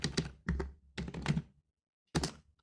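Code typed on a computer keyboard comes through as short bursts of close, clicky keystrokes separated by brief pauses, with no talking.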